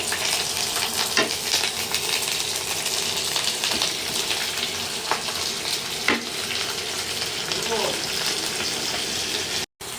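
Bottle gourd leaves fry in a hot pan with a steady, close sizzle. Occasional clinks and stirring knocks sound through it, and a brief cut comes near the end.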